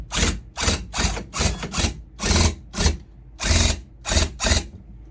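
A tufting gun punches yarn into burlap in about ten quick mechanical bursts, each a loud rattling, ratcheting buzz of under half a second, separated by short pauses, close and with no talking.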